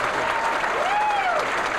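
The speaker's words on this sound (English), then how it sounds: "You can applaud if you'd like for Nick" Audience applause at a 9-ball pool tournament, a steady wash of clapping for a hometown player, with faint whistling or tonal sweeps on top.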